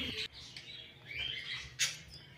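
Budgerigars, a Texas clearbody and a lutino, chirp in a cage with short, high tweets and scratchy calls, close and fairly quiet.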